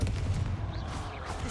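Confringo explosive spell in the game Hogwarts Legacy, a short booming blast at the start that fades into a low rumbling tail.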